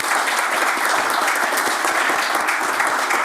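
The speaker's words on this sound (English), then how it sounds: "a huge round of applause again for our speakers" Warm, continuous applause from an audience thanking the speakers at an afternoon launch event session, many hands clapping densely and evenly throughout, with no talking.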